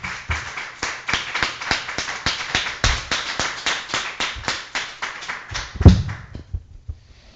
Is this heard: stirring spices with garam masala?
no